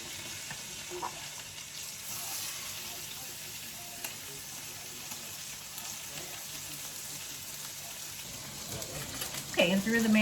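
Food sautéing in a pan, a soft continuous sizzle and hiss at moderate distance throughout, with a brief clatter near the end.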